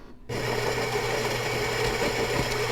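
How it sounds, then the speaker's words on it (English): A Philips 5400 LatteGo espresso machine grinds coffee beans in its built-in grinder, starting abruptly after a short quiet moment and holding a steady, close, buzzing mechanical whir to the end. "Now we've got beans grinding up in the grinder."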